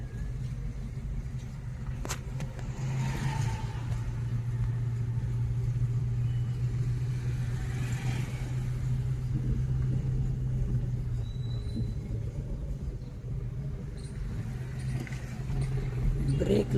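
A car engine at a driving school idles with a steady low rumble as the driver fully releases the clutch, holding an even level without strong revving throughout.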